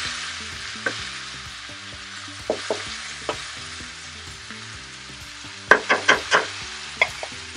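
Tomato added to sautéed spinach with ribs cooks in a pan, a steady low sizzle broken by occasional clicks and a short run of utensil taps and stirring scrapes near the end.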